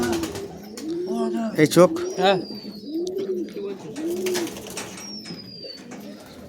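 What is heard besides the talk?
Giribaz pigeons cooing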